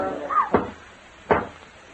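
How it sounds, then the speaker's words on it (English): Two dull, heavy knocks land on a door in a staged seance show, spaced well apart and fairly loud, with nothing else heard between them. "Oh, it's just somebody at the door."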